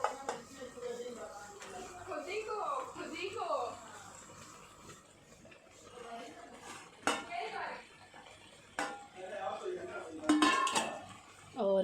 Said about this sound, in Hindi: अब इसमें डालेंगे मैश किए हुए आलू।